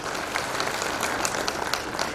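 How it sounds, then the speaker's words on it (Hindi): Loud, dense applause from a crowd at a Brahma Kumaris stress-relief program in Srinagar Garhwal, many hands clapping close by for a couple of seconds without anyone speaking. "ताली तो बजा दे एक बार।"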